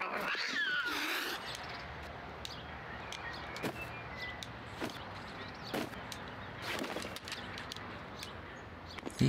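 A cartoon cat in the adventure video game Lost in Play meows and yowls over a steady, noisy game ambience with scattered sharp clicks and taps.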